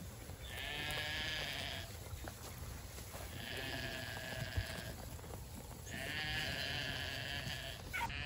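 Sheep bleat in three long, wavering calls spaced a couple of seconds apart, fairly close, with a soft background hum.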